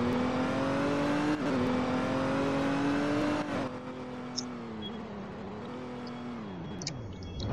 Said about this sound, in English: Okay, there's a car down here.